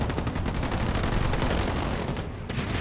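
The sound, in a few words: sniper rifle gunfire in the video game Halo Wars 2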